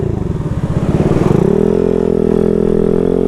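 A GY6-engined Honda Ruckus scooter rides at speed, its engine rising in pitch through a brief rev before settling into a steady, loud, continuous drone close by.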